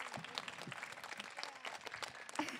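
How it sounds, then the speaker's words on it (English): A crowd applauding steadily, dense overlapping claps at moderate volume for a couple of seconds, with no talking. "One more round of applause for our amazing team of students."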